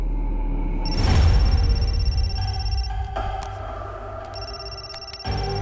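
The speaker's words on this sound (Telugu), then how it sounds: "సభానే ఫోన్ చేస్తున్నాడు" An electronic phone ring with a steady high tone sounds, pauses, then resumes, over low rumbling background noise.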